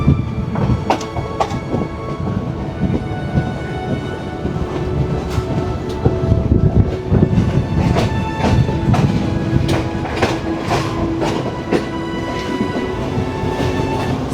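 A passenger train on Sri Lanka's coastal line starts and rolls along in rain, with a continuous low rumble and repeated clanks and rattles of the wagons. Rain noise sits underneath.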